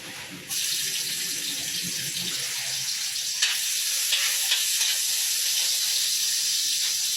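Garlic hits a hot pan for pancit bihon and sautés with an abrupt, loud, steady sizzle that holds throughout, broken by a few faint clinks.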